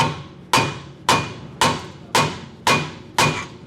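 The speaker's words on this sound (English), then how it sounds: "just hit right here with a sledgehammer" A sledgehammer strikes a steel suspension knuckle on an S13 240SX to break it loose, seven sharp metallic blows at an even pace, each ringing briefly and decaying, close and loud with no talk.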